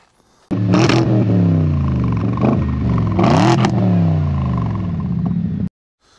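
A BMW 645Ci V8 fitted with small stainless steel mufflers revs up hard twice, each loud rising snarl falling back to a rumbling idle before the engine cuts off abruptly.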